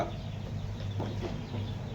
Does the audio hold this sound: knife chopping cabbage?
no